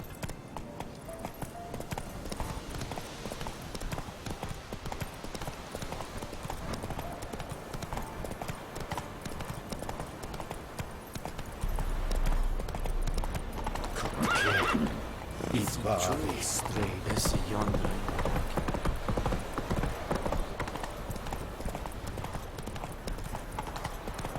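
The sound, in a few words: horse galloping in The Witcher 3 video game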